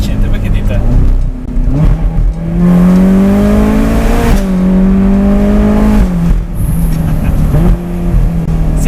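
A Ferrari California's naturally aspirated engine hums loudly while driving with the roof open, its harmonic tone rising steadily with gentle revving and easing off briefly before climbing again, accompanied by steady road and wind noise.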